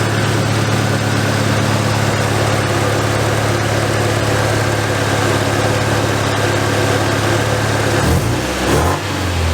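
A subscriber's car engine idles smoothly and steadily up close, a loud, even low hum with a constant tone that dips and shifts briefly near the end.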